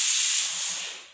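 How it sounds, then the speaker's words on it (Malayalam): A pressure cooker hisses with a loud, high steamy whistle that starts strong and gradually fades over about a second, with no talk over it. "കുക്കർ വിസിലടിച്ചുകൊണ്ടിരിക്കുന്നു കേട്ടോ"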